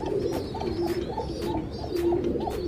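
Lakha pigeons cooing at a pigeon farm, a repeated soft, throaty coo rising and falling several times in a steady rhythm. A faint high background hiss runs underneath.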